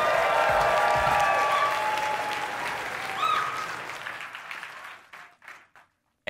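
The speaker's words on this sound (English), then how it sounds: "make some noise for IdrA" A large crowd at a live StarCraft 2 tournament cheers and applauds loudly, the clapping and whistles swelling early, then thinning out and fading into scattered claps before near silence.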